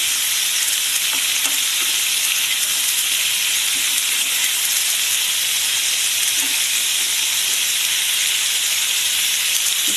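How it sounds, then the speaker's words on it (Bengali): Ridge gourd frying with bori (dried lentil dumplings) in a hot pan, a loud, close, continuous sizzle and hiss with occasional stirring clicks, no voices. "তারপরে বড়িটা লাল হয়ে যাওয়ার পরে ঝিঙেগুলো দিয়ে দেবো।"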